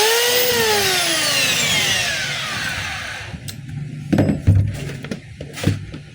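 A DeWalt D25033 rotary hammer with a loose brush holder whirs and winds down, then sputters in short intermittent bursts as it cuts in and out; close and moderately loud, no talk.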